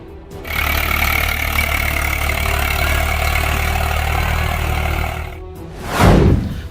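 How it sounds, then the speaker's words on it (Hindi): A tractor runs over a field of ready cauliflower, its engine droning steadily and loud for several seconds before a brief pause and a surging burst of revving near the end. "फूल गोभी पर चलाया ट्रैक्टर।"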